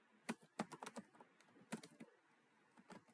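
Soft, irregular keystrokes on a computer keyboard as a word is typed into an Excel spreadsheet, a few quick clusters of clicks followed by quieter taps, faint and close with no talking.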